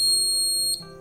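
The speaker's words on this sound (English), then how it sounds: "Now we will connect battery to the buzzer." A battery-powered buzzer in a simple DIY home circuit sounds one steady, loud, high-pitched electronic tone that holds for most of a second and then drops away.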